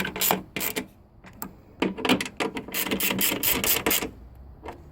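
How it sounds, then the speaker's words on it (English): A stubby ratchet snugs up headlight bolts on a 2002 Caravan 3.3L, producing close, quick bursts of mechanical clicking in several separate runs with short pauses between them. "Get your trusty little stubby ratchet."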